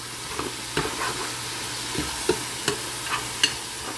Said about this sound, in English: just simply saute the meat for at least 2 to 3 minutes